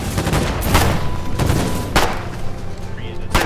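Gunboat deck guns fire in Foxhole naval combat, several heavy booming shots spaced roughly half a second to a second apart, loud and close over continuous engine and water rumble, with players talking throughout.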